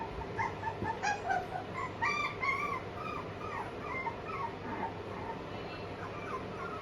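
Six-week-old Pomeranian puppies in a puppy room whimper and yip in thin, high, repeated cries, faint and clustered in short bursts.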